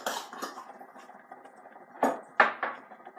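A spoon stirs bread ingredients (sugar among them) in a bowl, scattered light clinks and scrapes against the bowl, close and fairly quiet, with a few sharper knocks near the end.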